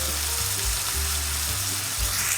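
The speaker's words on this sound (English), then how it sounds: "we're going to let our ground beef cook until it's all brown" Ground beef with black pepper, garlic powder, onion powder and adobo seasoning sizzling steadily in a pan, a loud continuous hiss over a low pulsing hum.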